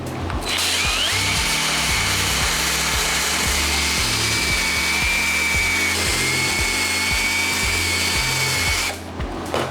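A mechanical power brush scrubs Off-White Jordan 4 sneakers dipped in cleaning solution, a steady loud whirring drone with rhythmic scrubbing pulses, close and continuous for several seconds before cutting off.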